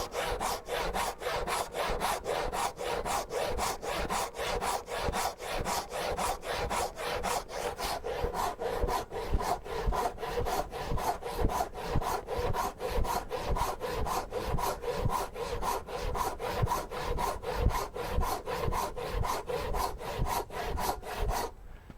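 A 90-year-old hand saw cuts a wooden tenon, steady rhythmic rasping strokes back and forth, close and clear with no talking, continuing evenly for a long stretch.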